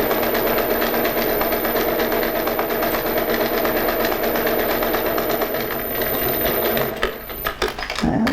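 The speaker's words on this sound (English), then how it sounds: "I'm just going to sew straight along now" Sewing machine running a straight line of stitches through fabric for a face mask: a rapid, even mechanical whirring and ticking, close and steady, stopping near the end with a few clicks.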